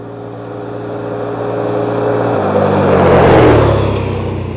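A vehicle on stock tires and stock clutching accelerates past on a speed run, its engine drone rising from a distance to a loud whooshing peak close by, then fading away.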